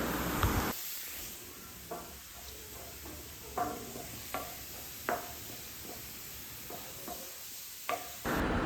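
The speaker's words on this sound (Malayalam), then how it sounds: "സവാള ഇങ്ങനെ വറുത്തെടുക്കുകയാണ്" Onions fry in a pan over a steady sizzling hiss, with occasional clinks and stirring scrapes from a utensil, close and fairly quiet.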